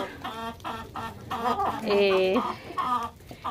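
A young French rooster clucks and calls close by in a series of raspy, rhythmic vocalizations, with one longer, louder drawn-out note in the middle.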